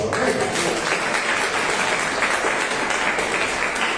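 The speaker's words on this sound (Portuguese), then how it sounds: "O Senhor Jesus, uma linda salva de palmas" Church congregation applauding during a Holy Communion service, sustained dense clapping from many people in a reverberant hall, steady and fairly loud throughout.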